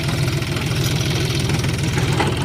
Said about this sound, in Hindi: अभी तो ये ट्रैक्टर चल रहा है,